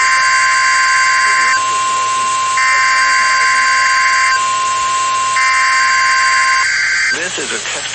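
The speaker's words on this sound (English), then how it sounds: "This is a test of the NOAA radio warning alarm device." A NOAA weather radio warning alarm test tone sounds: a loud, steady electronic tone with overtones that pulse on and off roughly every second, stopping shortly before the end.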